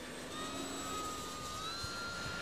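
Engine drone of a Hawker Hurricane in flight at full power, a steady, fairly faint tonal hum with slowly shifting pitch, no voices.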